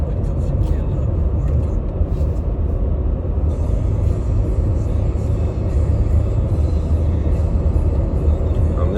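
Steady low rumble of a car driving, heard from inside the cabin, constant road and engine noise throughout with a voice talking over it.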